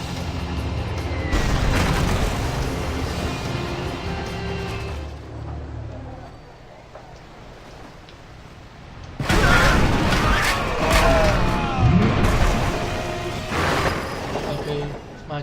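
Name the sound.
bomber bombing a Spanish galleon, explosions in Civilization Revolution video game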